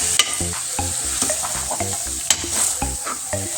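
Mutton being stirred and mixed with masala in a hot pan, a spoon scraping in a steady rhythm of repeated strokes over a constant close sizzle, with one or two sharper knocks against the metal.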